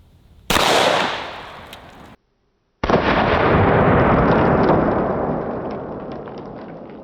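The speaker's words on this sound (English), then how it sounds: "This is the Glock 17 MCK, and we have the SIG V-Crown hollow point." A Glock 17 firing 9mm SIG V-Crown hollow point rounds into a concrete wall gives two loud, sharp shots, the second followed by a long ringing decay.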